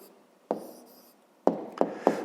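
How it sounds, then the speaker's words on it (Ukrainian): Pen writing an answer by hand on paper, soft scratchy strokes in short bursts, one longer stroke then three quick ones, close and quiet with no talk. "а зараз записуємо відповідь, пишемо відповідь"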